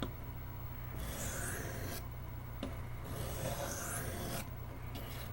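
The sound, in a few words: sharpening a Camillus electrician's knife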